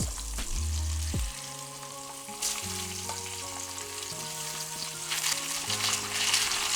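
Pork neck fries in a pan with a constant bright sizzle and crackle, close up, under a steady background drone of low, shifting tones.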